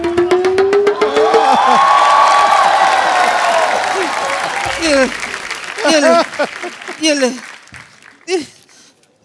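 Studio audience on The Kapil Sharma Show, a comedy talk show, bursts into loud, dense clapping and cheering that fades after a few seconds, then people talk and laugh over the dying applause.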